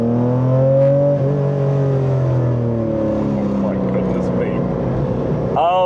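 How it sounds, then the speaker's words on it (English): Air-cooled flat-six engine of a Singer-restored Porsche 911 revving under load from behind the cabin, a loud rising and falling gearshift howl with strong harmonics, with someone talking over it. "With the noise from that air-cooled flat six behind me"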